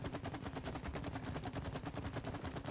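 Rapid gunfire in the co-op video game It Takes Two, a quiet, tightly spaced stream of repeated shots firing in quick, even succession without a break.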